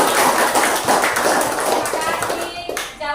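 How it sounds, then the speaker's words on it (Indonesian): Children in a classroom give a round of applause, a burst of many quick claps up close that thins toward the end, with young voices mixed in. "Tepuk tangan untuk kita semua."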